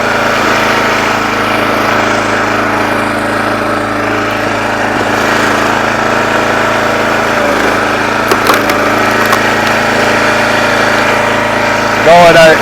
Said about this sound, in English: Probably doesn't like this loud splitter.